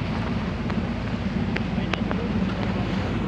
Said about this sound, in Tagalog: Medyo malalaki ng alon.